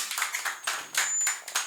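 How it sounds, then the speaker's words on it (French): Audience clapping for performer Kersin Woodley at a youth event, a short burst of scattered handclaps in uneven bursts, fairly faint and distant, with no talk over it. "Pendant que la avancée, invitez-nous à applaudir,"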